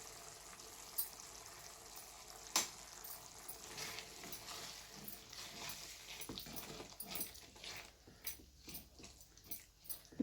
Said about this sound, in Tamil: அஞ்சு நிமிஷத்துக்கு அப்புறம் மசாலா நல்லா ஃப்ரை ஆகி எண்ணெய் விட ஆரம்பிச்சிருச்சு